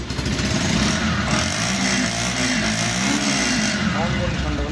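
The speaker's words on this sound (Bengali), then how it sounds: "বাইকটির ইঞ্জিন সাউন্ড কন্ডিশন থেকে শুরু করে সব কিছু আপনাদেরকে দেখিয়ে দিচ্ছি" A Bajaj Pulsar 150cc double-disc motorcycle engine runs steadily at idle, a loud continuous close-up drone that holds without pause, with voices talking over it.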